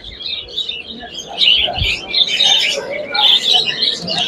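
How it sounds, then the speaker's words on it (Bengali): Several cockatiels at a national exotic bird show chirp and call in bursts of high, scratchy notes, fairly close, over a faint background murmur. "এগুলো সবই হচ্ছে কোকাটেল পাখি"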